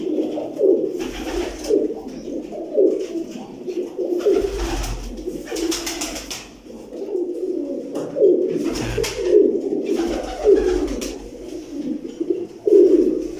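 Large pigeons coo in repeated deep, throaty rolls, close by and fairly loud, the phrases overlapping with short gaps between them.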